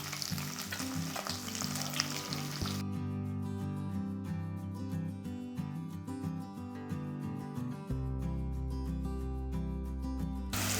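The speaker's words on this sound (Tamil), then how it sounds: "இதில் 2 பெரிய வெங்காயத்தை கட் பண்ணி வச்சுருக்கேன், இதையும் போட்டுக்கலாம்." Chopped onions dropped into a hot pan for Tamil-style tomato rice, a steady sizzle and fry that carries on evenly, with a musical backing playing throughout and no talking.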